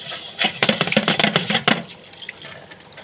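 Dishes being washed under a running kitchen tap, with a burst of splashing and clattering water that settles into a quieter trickle.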